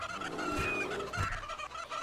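Chickens clucking and squawking in the colony simulation game Rimworld, a couple of agitated calls close and fairly loud over a busy background, no talking.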